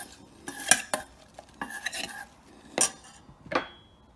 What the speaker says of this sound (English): I'm going to mix those just with some olive oil and red wine vinegar